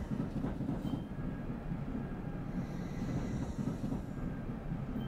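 Tram rolling along rails in a tram simulator game set at Modřice near Brno: a steady low rumble and hum with faint wheel noise, continuous and even throughout, no talking.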